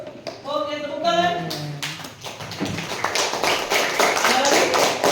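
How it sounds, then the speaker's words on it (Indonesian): A classroom of students clapping together, a burst of quick, close rhythmic claps that follows a teacher's voice at the start. "Oke, tepuk tangan."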